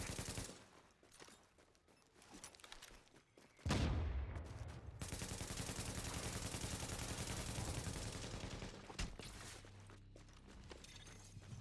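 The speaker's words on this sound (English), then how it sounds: "Hostiles are firing on a fortification." Gunfire in The Division video game, quiet scattered shots at first, then a sudden louder sustained burst of rapid automatic fire and continuing shooting during a PvP fortification attack.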